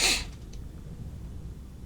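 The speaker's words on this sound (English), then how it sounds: "I'm going to sneeze as well." One sharp, brief sneeze bursts out at the start, close by, followed by quiet background noise.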